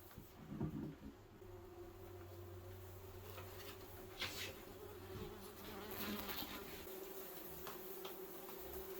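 Wasps disturbed in a relocated nest box buzz steadily at low level, a continuous insect drone with a few brief rustles and knocks close by.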